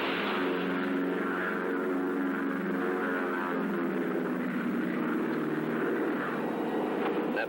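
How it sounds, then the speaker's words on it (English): A steady propeller airplane drone passes overhead, a broad continuous rumble holding level throughout with no voices. "That plane could be very handy for covering the sound of gunshots."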